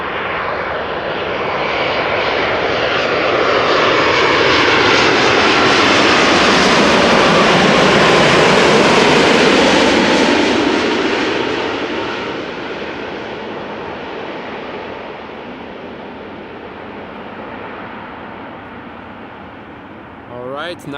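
A Boeing 777-300 or freighter on arrival at Amsterdam Schiphol passes close overhead, its jet engines swelling into a loud broadband roar with a whirring tone, peaking mid-pass and then easing into a steady fading rumble.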